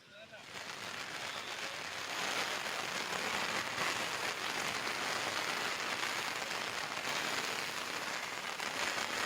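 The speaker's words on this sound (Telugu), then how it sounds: "ఖమ్మం జిల్లా వైరా నియోజకవర్గంలో ఎడతెరిపి లేకుండా భారీ వర్షాలు కురుస్తున్నాయి" Heavy, unrelenting rain pours down in the Wyra area of Khammam district, a dense steady hiss that swells after the first couple of seconds and holds loud and even throughout, with no clear voices.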